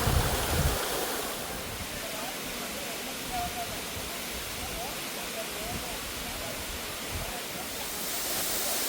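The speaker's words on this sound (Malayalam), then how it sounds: "പക്ഷേ മുകളിൽ നിന്ന് വീഴുന്ന വെള്ളം നല്ല ഫോഴ്സിലാണ് വീഴുന്നത്" Aruvikuzhy waterfall with water falling forcefully from height, a loud, dense, continuous rushing roar heard up close.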